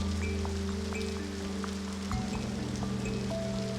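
Steady rain falls in a children's story about an ant and a grasshopper, a soft continuous patter with a few scattered droplet ticks and a low hum underneath, heard alone without voices.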